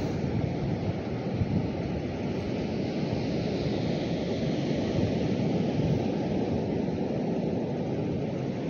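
Surf washing onto the white-sand shore of Nakpan Beach, a steady, loud, unbroken roar of breaking waves with wind buffeting the microphone and no one talking.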